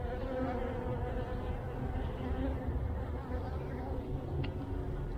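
Honey bees buzz in a dense continuous drone around an open hive during an early-season February inspection, close and steady, with a few individual bees whining past nearby.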